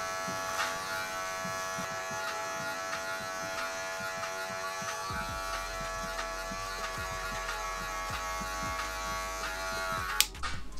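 Electric hair clippers fitted with a number three guard cut hair during a home self-haircut fade, a steady close buzz running continuously with faint rubbing and shifts in tone as the blade moves through the hair.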